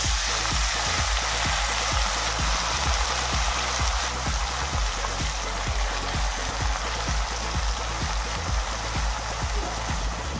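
Cumin, green chili and spring onion greens fry in hot oil with a loud, dense, constant sizzle and crackle and faint rhythmic stirring underneath.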